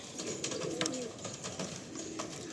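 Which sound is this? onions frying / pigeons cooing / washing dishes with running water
pigeons cooing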